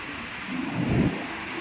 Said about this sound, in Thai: ลม แรง บวกกับฟ้าแลบฟ้าร้องอยู่ตลอดเวลาฮะ